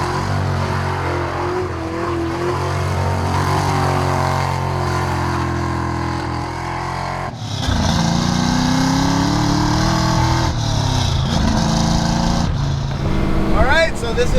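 A 1973 Ford Mustang restomod drives along a mountain road with its engine note droning steadily. The engine shifts pitch partway through as it accelerates and revs, heard loud from inside the car.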